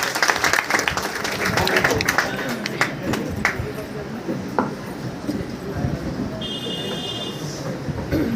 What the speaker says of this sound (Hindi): तो एक जोरदार ताली होनी चाहिए।